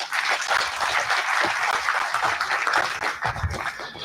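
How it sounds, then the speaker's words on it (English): Conference audience applauding at an international commerce conference, a dense, steady wash of many hands clapping throughout, loud and close with no talking. "Please join me in welcoming him with a warm round of applause."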